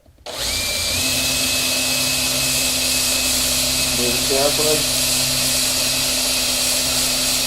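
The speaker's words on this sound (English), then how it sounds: "I've done this a lot to where I can hold the drill pretty straight." A power drill whines loudly and continuously at close range, boring through a Martin HD-28 guitar bridge and bridge plate, starting abruptly and holding a steady pitch, with brief speech partway through.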